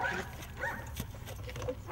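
A German shepherd mine-detection dog at a demining centre gives a few soft, close barks and whimpering yips amid low background noise.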